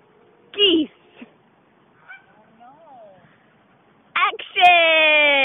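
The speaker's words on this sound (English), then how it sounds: "Geese." Geese honk in loud, harsh bursts, one near the start and a longer run of calls at the end, with quieter murmuring and voices in between.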